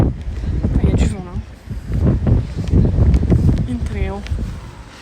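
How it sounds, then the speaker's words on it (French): Outdoor wind rumbles and buffets the microphone steadily, with people talking over the low, blustery roar. "Il y a du vent là."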